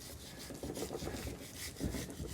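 A Hammer Stahl Damascus steel slicer knife trims fat from a brisket, making soft, continuous rubbing and scraping strokes that are close and fairly quiet, with no voices.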